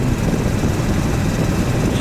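A Triumph Bonneville motorcycle cruises in fourth gear at 2,000 RPM, giving a low, steady engine drone mixed with rushing wind noise, continuous and fairly loud throughout.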